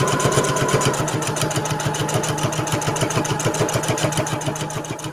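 A sewing machine stitches binding onto a Christmas tree table runner, its needle running in a fast, steady mechanical rhythm that stays close and constant throughout with no talking.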